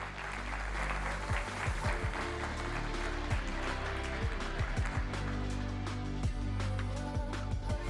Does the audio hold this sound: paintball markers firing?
no